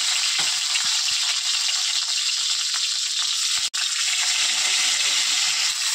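Steady, loud sizzling of bata fish parcels wrapped in bottle gourd leaves frying in hot oil in a wok, with a few soft rattles and one brief cut near the middle; no voices.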